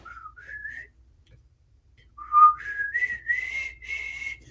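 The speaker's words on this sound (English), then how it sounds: "just whistling a nice little working tune" A person whistles a cheerful working tune in short rising phrases, clear and close against near silence, with a brief pause before a longer, louder stretch of melody.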